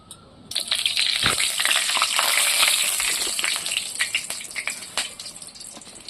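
Bay leaves, cardamom, cinnamon sticks and cloves frying in hot oil in a Bengali chicken preparation, a loud steady sizzle with crackling pops throughout.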